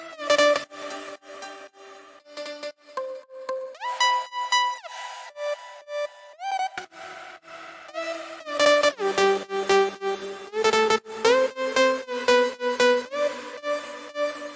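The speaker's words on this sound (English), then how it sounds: "The main drop melody should sound like this." Main drop melody made in FL Studio: a bright, buzzy synth lead playing a steady rhythmic melody with pitch glides, loud and alone.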